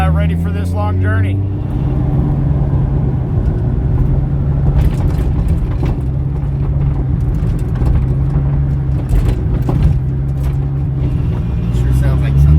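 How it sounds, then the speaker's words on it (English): A Nissan 240SX fitted with a 2JZ engine drives on a street, its steady, loud engine drone and low rumble running throughout at close range, with an occasional faint voice underneath. "We're going to go for a little street drive right now, make sure it's buttoned up and ready for this long journey."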